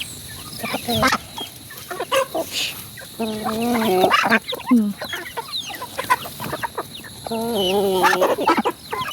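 Chickens cluck and squawk in bursts while being fed, several birds close by, with a few rooster-like calls and low voices and rustling mixed in.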